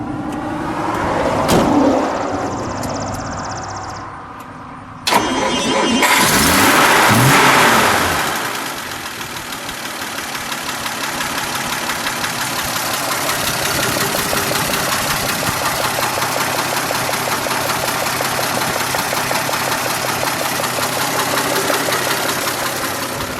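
A 1955 Willys Jeep Utility Wagon engine cranks, catches with a sharp start, then settles into a steady, even idle that runs on at moderate loudness for the rest of the stretch, with no talking.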